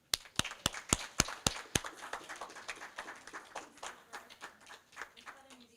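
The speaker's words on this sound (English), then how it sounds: "But a round of applause for Simon." A round of applause in a students' council meeting: a few sharp, loud claps at the start, then a softer, steady patter of clapping from several people that fades over several seconds.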